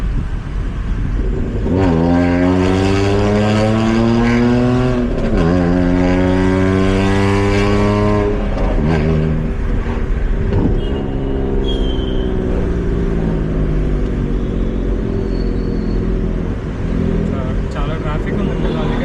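A VW Polo 1.2 MPI with a quad exhaust pulls hard in second gear, engine note climbing through repeated rising revs and gear changes, loud from inside the car with the windows partly down.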